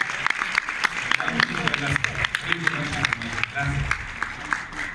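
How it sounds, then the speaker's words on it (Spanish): Audience applause for Gloria de Llanos at an event, a dense wash of clapping hands lasting several seconds, moderately loud, with voices murmuring and talking underneath. "Un fuerte aplauso para Gloria de Llanos."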